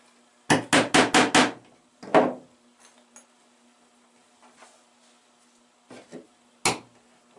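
Claw hammer striking metal trap stakes: a quick burst of five sharp ringing metallic blows, a single heavier hit, then scattered quieter taps and a final clang, close and loud against a quiet background.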